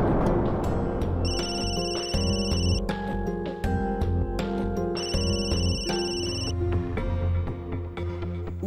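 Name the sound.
mobile phone ringing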